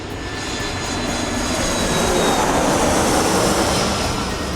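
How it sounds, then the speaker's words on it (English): A jet airplane engine roars steadily and loudly throughout, a smooth broad whoosh of rushing air with a faint high whine riding on top and no breaks. "a jet often has a smoother roar or a whoosh."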